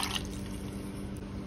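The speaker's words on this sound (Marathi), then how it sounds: "एक वाटी पाणी घालायचं" A cup of water is poured into a mixer jar holding soaked cashews and sweet potato pieces, producing a faint, steady trickle and splash with a brief brighter burst at the start.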